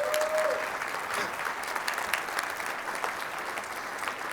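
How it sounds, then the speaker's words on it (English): An audience at a JavaScript conference talk at JSConf Iceland breaks into sustained applause, a dense, even wash of clapping from many hands that holds steady throughout, with a faint voice at the very start. "I want you all to give them a round of applause"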